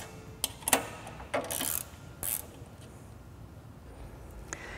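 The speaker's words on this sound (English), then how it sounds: "let's go ahead and loosen those up using the half-inch wrench" Half-inch wrench loosens jam nuts while assembling a SuperMax 37x2 double drum sander, giving a few quick metallic ratcheting clicks and scrapes close by, followed by quiet handling noise.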